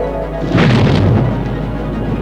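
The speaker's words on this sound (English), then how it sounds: "Electronic controls will fire the rocket motor at the exact second the ship reaches the proper position." A spaceship's rocket motor fires in a film, a deep, loud rumbling boom that swells suddenly over a low drone and then rolls on steadily.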